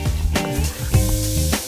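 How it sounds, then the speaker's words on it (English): Butter, garlic and flour sizzle and fry in a pan, a steady close sizzle with brief stirring and scraping sounds, cooked as the base for a slow cooker pot roast gravy. "Let that saute for just a bit."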